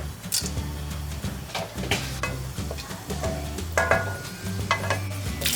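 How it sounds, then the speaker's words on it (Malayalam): Whole cinnamon, cloves, cardamom, bay leaves and peppercorns sizzle in hot oil in a heavy pan, a steady crackle with scraping stirs and utensil knocks over a low hum, no talk. "നല്ല ചൂട് കട്ടിയുള്ള പാത്രത്തിൽ എണ്ണ ചൂടായപ്പോൾ പട്ട, ഗ്രാമ്പു, ഏലക്ക, ബിരിയാണി ഇല, പിന്നെ കുറച്ച് കുരുമുളക് ഇതെല്ലാം ഇട്ടിട്ടുണ്ട്"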